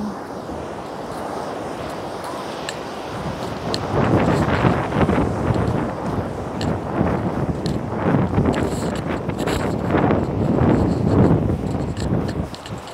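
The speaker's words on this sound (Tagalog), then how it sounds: "Masarap ang hangin." Gusty wind at cliff-top Hornsea beach buffets the microphone, starting moderate and growing into loud, pulsing roars after a few seconds; no voices.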